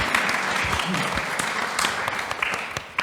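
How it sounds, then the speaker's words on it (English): An audience at a diversity conference claps in a sustained, even burst of applause that fills the room and carries on evenly throughout. "Please clap."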